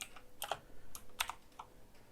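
Scattered keystrokes on a computer keyboard while writing Express web code, a few quick bursts of clicky taps with pauses between them, close and fairly quiet, with no talking.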